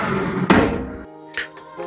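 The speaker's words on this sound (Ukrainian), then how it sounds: "Зачиняємо захисні дверцята." A mini injection molding machine's protective door swings shut with one firm thunk near the half-second mark, followed by a short rattle and then a couple of small clicks and knocks as it settles.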